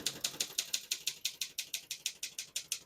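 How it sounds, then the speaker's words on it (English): Keys strike in quick, even succession on a 1957 Optima Elite portable typewriter, about five crisp clacks per second, close up and with no talk. "I'm going to keep that on single for now and finish typing."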